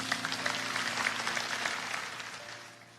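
A church congregation claps for God during a worship service, a moderately loud burst of clapping that fades away over a few seconds.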